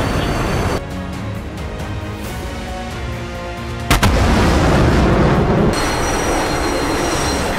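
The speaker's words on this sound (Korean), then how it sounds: "미사일 발사!" Missiles launch and shells explode in a naval combat video game with a carrier strike group, a dense mechanical roar broken by a sharp blast near the middle, followed by a louder, sustained rushing boom.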